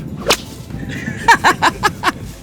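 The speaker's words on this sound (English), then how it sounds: "we even got to crack the whip" A vaquero's whip cracking on the Rupununi savannah in Guyana: one sharp snap, a brief swish, then a rapid run of four or five loud, close cracks, with no voices.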